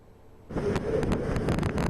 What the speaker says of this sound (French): De forts coups de vent et des vagues violentes ont battu les zones côtières du Guangdong lorsque le typhon Haima a atterri vendredi.